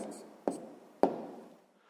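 Pen strokes writing an answer on paper, two sharp scratchy taps with soft rubbing between, close and quiet with no voices.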